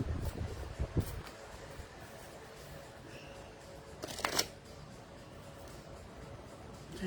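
Oracle cards are shuffled close by, soft riffling and papery slaps in a few short bursts, with quieter rustling between them.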